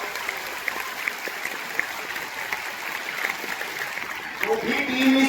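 A crowd at a Vidyapeeth Bhubaneswar program clapping steadily and continuously, a dense wash of applause at moderate distance, with voices rising over it near the end.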